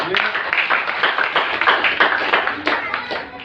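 A church congregation claps together for Jesus in a steady, dense, rhythmic round of handclaps, sustained and fairly close throughout the short stretch.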